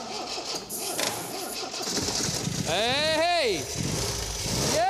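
An MG MGB engine cranks and catches with carburettors primed from a spray can, turning over under loud background noise and a shouted voice, with rising whining tones as it struggles to fire.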